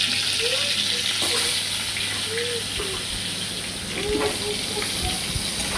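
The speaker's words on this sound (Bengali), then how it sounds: "তেল দিয়ে দিলাম, আবার আলুগুলো ভেজে দিচ্ছি।" Potatoes fry in oil in a kadai: an even, dense hiss and sizzle runs the whole time, with a faint voice now and then underneath.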